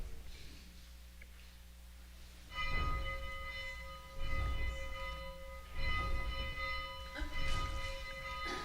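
Church bells ring out in a sustained, resonant peal, with several strikes overlapping and clear tones lingering between them.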